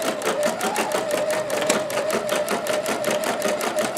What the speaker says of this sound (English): here I've got the Platinum Plus stitching out freestanding lace on 2 layers